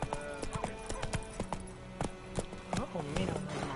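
Horse hooves clip-clopping in a steady trotting rhythm while riding in The Witcher video game, fairly quiet with a voice speaking over the hoofbeats.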